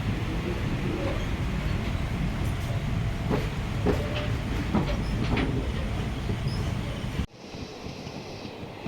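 Train rolling at night over the Tamirabarani river bridge, heard from inside with a steady rumble and rhythmic clickety-clack of wheels on the rails, cutting off abruptly near the end.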